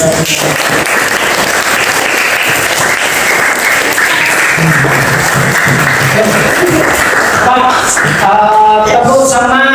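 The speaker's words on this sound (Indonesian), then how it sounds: "Tepuk tangan." An audience claps together after a teacher's closing remarks in a performance practice session, with sustained loud applause that gives way near the end to a voice and brief tonal sounds.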